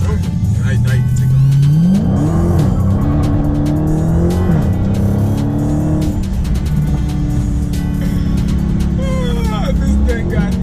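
A Dodge Challenger Hellcat muscle car floored from a standstill, its engine roaring loud and close with rising revs and a brief tire squeal as grip breaks, while voices talk over it.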